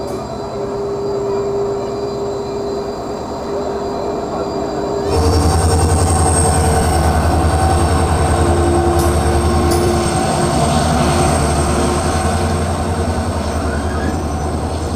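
19315 Veer Bhumi Express intercity from Udaipur to Asarva pulling away after a two-minute stop, a steady rolling rumble that grows louder midway with clattering wheels and squealing, heard from on board.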